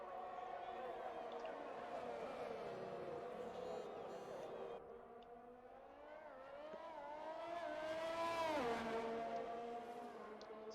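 A race car engine on a flying qualifying lap at Jeddah in a sim racing game, a steady high whine that rises and falls through gear changes and builds to a peak near the end, under a commentator's voice.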